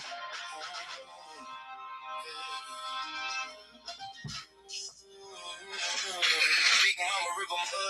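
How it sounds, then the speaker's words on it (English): A phone ringtone plays a melodic, music-like tune for several seconds, fairly loud and close, with a brief break midway before it continues. "Yeah, that's my ringtone, y'all."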